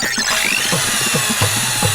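A power drill runs in short, loud whirring bursts close by, revving and stopping several times in quick succession.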